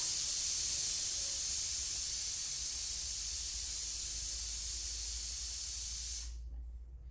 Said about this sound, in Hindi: मेरी ब्यूटी को देख के कुकर ने भी सीटी मार दी